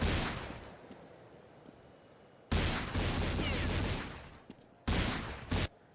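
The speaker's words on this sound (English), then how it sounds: "Shots rattle off around" Counter-Strike 1.6 gunfire during a pistol round of a pro match: dense, loud volleys of rapid shots in three separate bursts, the longest at the start, with brief quieter gaps of ambient game noise between them.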